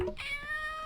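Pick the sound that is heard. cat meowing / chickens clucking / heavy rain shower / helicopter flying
cat meowing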